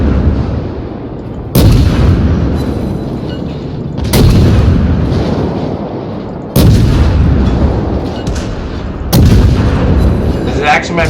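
Big naval guns in the World of Warships video game fire four heavy booms at roughly even intervals, each loud blast followed by a long rumbling tail.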